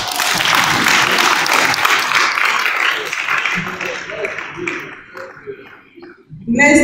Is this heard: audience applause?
yes